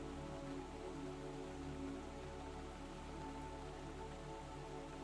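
Steady rain drums against the windows of a pottery studio at night, a dense, even patter that stays constant and soft throughout, with no voices.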